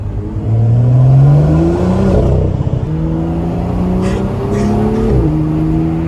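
A full-carbon BMW M2 with a titanium exhaust revs loudly nearby, its pitch climbing and dropping through several throttle blips, with faint crackles in between and a voice briefly audible.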